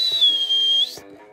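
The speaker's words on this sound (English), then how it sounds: "That's the whistle." A single sustained high whistle blown to call birds to feed, lasting under a second, loud and close, followed by brief quiet outdoor sounds.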